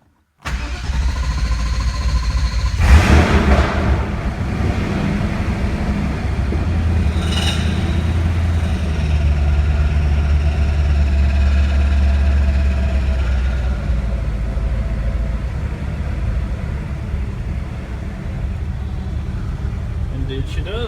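A Mercedes 240D W115 diesel cranks briefly, then catches and settles into a loud, steady idle close by, with a short clatter partway through.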